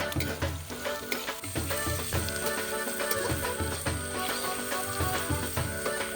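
Onions frying in a pan while pork liver fry is being cooked, giving a steady close sizzle with scattered scraping and stirring clinks throughout, and no talking.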